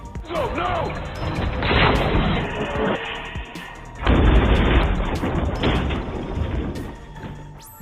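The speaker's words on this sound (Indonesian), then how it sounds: "Ledakan dahsyat seketika terjadi dari dalam lift" A blast erupts inside an elevator in a film scene, loud crashing booms and debris impacts arriving in two heavy bursts with rumbling and clattering between them, mixed with a dramatic score.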